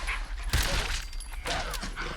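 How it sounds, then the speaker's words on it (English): Dogs barking and yipping in the video game Fallout 4, a few sharp calls over busy game noise, fairly close and moderately loud. "Dogs."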